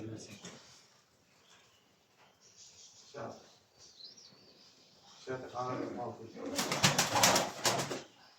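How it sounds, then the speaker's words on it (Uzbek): Pigeons at a keeper's loft in Andijan coo softly and intermittently among chatter and movement, with a louder burst of fluttering near the end while people talk nearby. "Ana qushlar. Qushlar."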